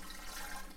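Four cups of water pour into a cooking pot in a brief, steady splashing rush, fairly quiet and close, with no talking.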